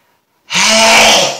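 One loud, forceful uncovered human sneeze erupts after a moment of silence, close and sustained for nearly a second before trailing off.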